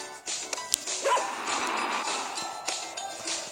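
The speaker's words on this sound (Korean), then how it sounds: "점프할 때마다 멍멍거려." A small dog yips and barks in short bursts as it jumps up and down indoors, fairly close, with scuffling movement between the barks.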